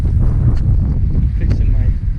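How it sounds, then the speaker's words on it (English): Strong wind buffets the microphone in a continuous loud low roar, with faint rushing gusts and no clear talk. "And it's just been excessively windy."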